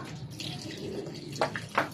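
Water runs from a tap in a steady hiss, with a couple of brief splashes near the end, no voices.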